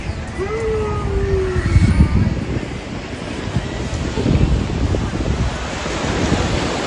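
Ocean waves wash onto a beach in Chile, a steady roar of surf with gusty wind buffeting the microphone and a brief faint voice-like tone early on.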